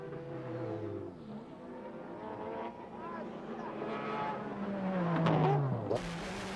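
A 1999 JGTC GT300 race with a bright yellow Mazda RX-7 and a Porsche battling for the lead, engines roaring and revving continuously. A pitch sweep rises then drops near the end as a car passes close by, with a commentator talking throughout.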